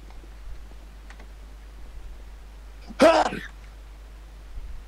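A single short sneeze bursts out mid-clip during a Counter-Strike: Global Offensive match, loud and close against a quiet background with faint game ticks.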